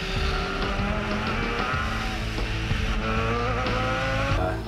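A race car on a racing circuit, its engine note rising and falling loud and close as it sweeps through corners, with tire squeal threaded through the continuous roar.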